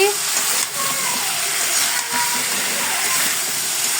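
Vegetable stems hiss and sizzle in hot frying spice paste, a continuous bright crackling sizzle with brief dips, while voices speak faintly underneath.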